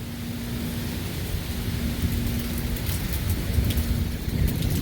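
A severe thunderstorm over Dauphin Island and Mobile, Alabama brings a loud, steady roar of heavy rain with deep rolling thunder rumbling underneath throughout.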